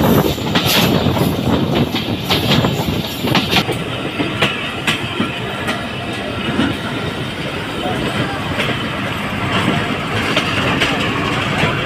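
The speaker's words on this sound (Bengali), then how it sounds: "রাজবাড়িকে টাটা বাই বাই বলে আমাদের ট্রেনটি চলে এসেছে পাচুরিয়া জংশনে" A Bangladeshi local train running on rails between Rajbari and Faridpur rumbles loudly and continuously from inside a carriage, with rhythmic wheel clatter and clicks over the tracks, and voices audible under the noise.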